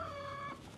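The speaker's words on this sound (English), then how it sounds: "So my chickens are squawking." Backyard chickens squawk and cluck loudly and close by in a garden with fruit trees, a steady run of harsh calls that drops back slightly near the end.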